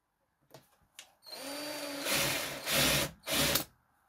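A power drill whines up to speed and bores holes into wood in a few loud bursts for a through mortise, preceded by a couple of light clicks.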